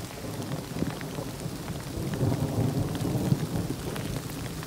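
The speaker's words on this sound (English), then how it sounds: "It has started to rain." A pop-up storm on the Appalachian Trail brings steady rain pattering on surfaces close by, with low thunder rumbling and swelling in the middle.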